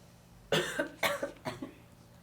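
A person coughs three times in quick succession, close and fairly soft, with no speech around it.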